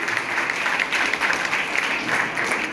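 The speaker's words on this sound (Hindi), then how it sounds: "यदि ताली बजाना आता हो ना तो जोर से बजाना" An audience at a diksha (religious initiation) ceremony in Nalasopara claps loudly and steadily, a dense, even wash of applause with no break.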